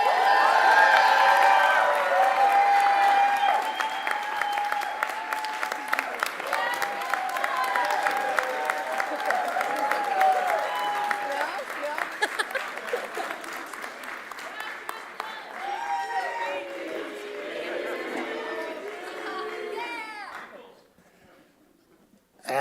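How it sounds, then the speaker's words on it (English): An audience at a sports product management commencement ceremony in Portland bursts into loud applause with cheers and whoops for an award recipient. The clapping thins gradually over about twenty seconds, voices rise through it, and it ends in near silence. "let's all give our recipient a huge round of applause"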